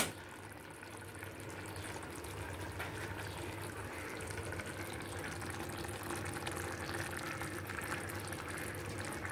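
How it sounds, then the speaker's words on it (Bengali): Mustard oil trickles into a hot pan where a spicy mustard fish dish with small tengra catfish is cooking, giving a steady, quiet pouring and sizzling hiss that lasts throughout. "দেব একটু সর্ষের তেল সাইড দিয়ে।"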